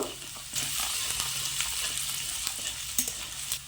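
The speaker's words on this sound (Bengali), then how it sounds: "এবার কড়াইতে দিয়ে দেব কুচনো রসুন, আদা কুচনো দিয়ে দেব। হালকা করে একটু ভেজে নেব।" Chopped garlic and ginger sizzle steadily in hot oil in a kadai, a bright continuous frying crackle with occasional stirring scrapes and taps.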